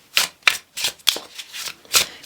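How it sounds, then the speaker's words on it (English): Tarot cards are shuffled by hand in close, loud bursts, about six riffling sweeps separated by short pauses. "And I'm going to shuffle some more."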